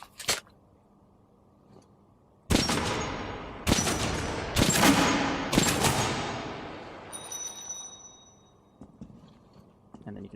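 Metro: Last Light game guns fired at targets on a range, four loud sharp shots each trailing off in a long echo, then quieter mechanical clicks.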